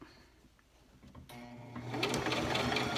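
A sewing machine stitches a face mask with a nose strip, starting with faint handling clicks, then the motor whirs up into a steady rapid stitching hum that grows louder toward the end.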